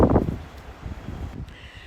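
Gusty wind buffets the microphone outdoors in a yard in Jamaica, a low rumbling roar that swells loudest at the start and then keeps blowing unevenly, with a faint rustle behind it and no talking.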